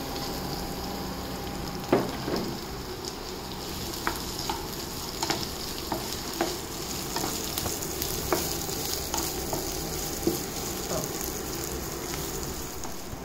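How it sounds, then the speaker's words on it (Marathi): Onion and garlic fry in a little oil until browned, a steady soft sizzle under repeated sharp taps and scrapes of a spatula against the pan, spaced every second or so. "कांदा चांगला लाल होईपर्यंत परतून घ्यायचा आहे"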